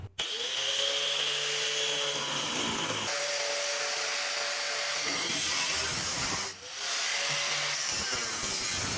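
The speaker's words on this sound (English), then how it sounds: "I'll drill out the spot welds." A power drill whines in repeated bursts, drilling out spot welds in the metal floor of a 1966 Ford Bronco, with rising and falling pitch, several passes separated by short pauses.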